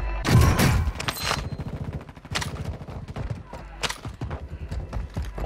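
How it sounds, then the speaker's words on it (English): Video game gunfire: dense rapid bursts of shots rattle loudly, with a heavy burst at the start, continuing rattling fire, and more sharp reports near the end. "He's getting shot at."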